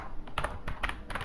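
Computer keyboard keys tapped while entering a name for a new web form, several quick clusters of clicks close to the microphone with no talking.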